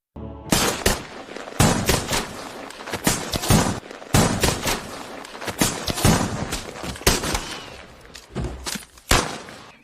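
Rapid gunfire from a film shootout, where a man shoots one of two brothers and his partner kills the other: loud, close bursts of shots in irregular clusters, crashing one after another with only short gaps across the whole stretch.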